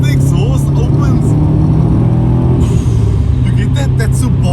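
A Subaru WRX STi making over 300 kW, driven with its exhaust opened up, gives a deep continuous exhaust rumble with a steady engine tone, and a voice talks over it throughout.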